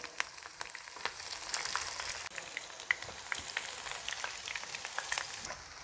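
Okra frying in hot oil, a steady crackling sizzle with scattered sharp pops and a brief stir partway through, close and moderately loud with no speech.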